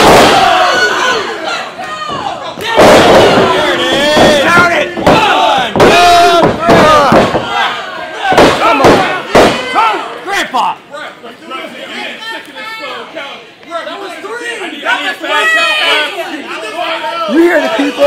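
A crowd roars and cheers loudly at a slap-fighting match, with shouting voices, bursts of applause and thuds, rising and falling in waves before settling into steady chatter.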